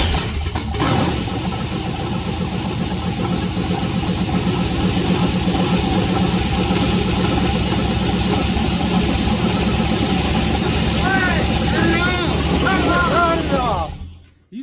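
The LS-swapped 1968 Cadillac hearse engine runs at a loud, steady idle with a deep rumble for about fourteen seconds, then cuts off abruptly, while people talk over it.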